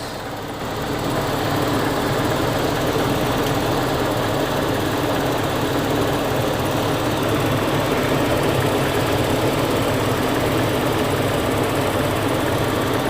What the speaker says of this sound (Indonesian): Suara mesinnya udah mulai lebih tenang.